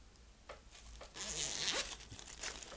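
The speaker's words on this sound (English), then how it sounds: "So you have here the zipper" The zipper on a Kiko Milano Beauty Roar makeup bag is pulled open in a few quick, close, rasping strokes, with a longer louder zip in the middle.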